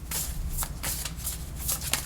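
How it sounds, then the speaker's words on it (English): A worn tarot deck is side shuffled close up, with rapid papery riffling bursts repeating in quick succession over a low steady background hum. "It's at that point now where I have to side shuffle it."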